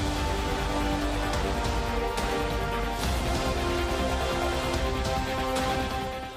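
Heavy monsoon rain pours down in Lunawada, Gujarat, a dense, constant hiss with scattered louder splashes, heard alone without talk.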